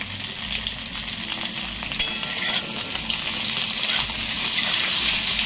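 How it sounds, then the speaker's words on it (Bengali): Eggplant pieces fry in hot oil with a pinch of turmeric, giving a steady, close sizzle that runs without a break and grows slightly louder toward the end, with faint stirring scrapes and no talking. "1 চিমটে হলুদ দিয়ে বেগুনটা ভেজে নিচ্ছি।"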